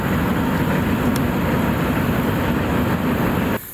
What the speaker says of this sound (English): And there was the train.